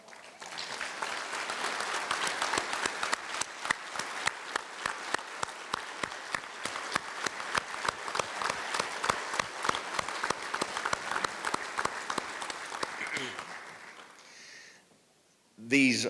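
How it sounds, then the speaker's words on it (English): A ceremony audience at a sports hall of fame induction gives armed forces members a sustained round of applause that builds, holds for about thirteen seconds, then fades to quiet before a brief loud burst at the end. "would you all give them a big round of applause?"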